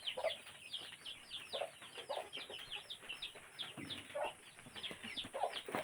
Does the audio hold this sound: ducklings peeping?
yes